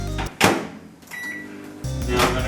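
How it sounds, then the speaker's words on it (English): A kitchen microwave oven melting butter in a measuring jug, with its door clunking at the start and a steady low hum running throughout, plus a brief higher tone partway through. "we're going to put it in our microwave until it's fully melted"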